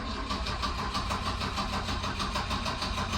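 A restored 1967 Volvo Amazon wagon engine with Mikuni carburetors, rebuilt, cranks on a cold start in a rapid, even rhythmic churn, close and steady throughout.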